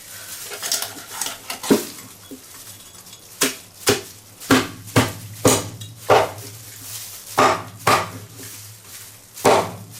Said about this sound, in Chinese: 又换了一把砍刀，这个砍刀好像也不是太锋利。